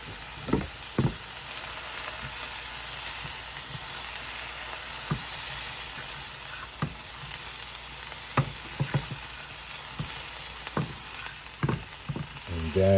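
Plant-based sausage and vegetables sizzle in a stir fry, giving a constant close hiss broken by sharp clicks and scrapes of a utensil against the pan.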